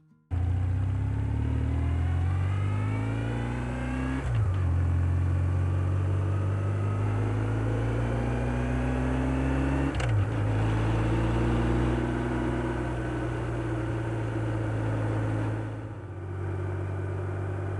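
BMW R1150GSA motorcycle on cheap Chinese screw-in studs, riding with a steady engine drone and wind noise, rising and falling through gear changes and brief throttle shifts, close and loud throughout.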